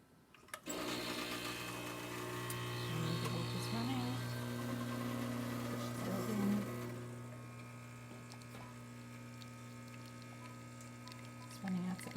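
A Celini espresso machine, freshly descaled and tuned up, pulls a test shot with a steady electric pump hum and buzz that fades toward the end. There is no talk over it.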